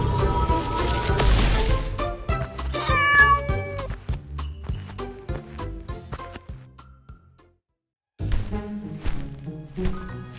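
A cartoon cat meows amid a busy animated dinosaur adventure soundtrack, with several bright meows over music and impacts, then a short silence before the lively score returns.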